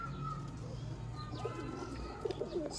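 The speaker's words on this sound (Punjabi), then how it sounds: "ਸਿਆਲਕੋਟੀ ਕਾਲੇ ਮੂੰਹ ਵਾਲੇ ਚੈਂਪੀਅਨ ਕਬੂਤਰ" Sialkoti black-faced champion pigeons coo softly in a short series of low, throaty calls, rising slightly in the final second over a faint background hum, with a voice faintly present.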